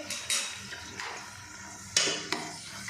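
Ginger and garlic sauté in hot oil in a pressure cooker, with a soft sizzle under sharp metallic clinks and scrapes of a spoon against the pot, several distinct knocks spaced irregularly.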